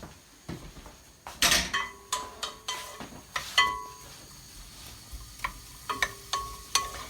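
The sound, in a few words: onions and garlic gently cooking in a pan, stirred with a wooden spoon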